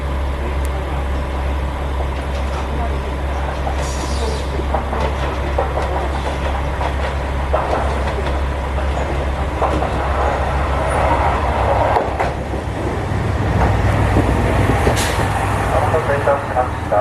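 The Super Inaba train, an older-style Japanese express heading to Kamigori in the mountains, rumbles steadily along the rails with a low engine drone and faint rattles throughout.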